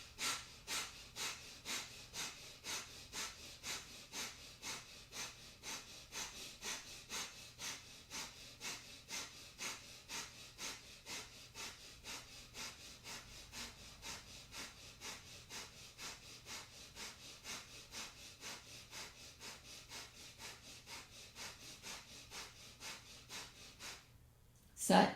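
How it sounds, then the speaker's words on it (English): Rapid rhythmic yogic breath of fire, with sharp nasal exhalations repeating about twice a second in an even pulse for over twenty seconds, close and quiet, before a brief pause and a final louder breath. "Keep breath of fire."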